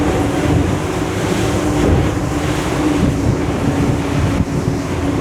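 A boat running at speed takes waves directly on its starboard side, giving loud, continuous hull slap, rushing water and wind buffeting with a low engine drone underneath.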